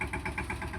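A farm tractor's engine idling nearby, a steady low diesel rumble with even rhythmic pulses, loud and without speech.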